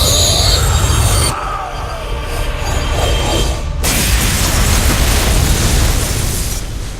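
A dense, roaring explosion and rumbling blast from StarCraft II, loud and sustained, with an abrupt shift midway into a fresh burst of crackling, booming noise.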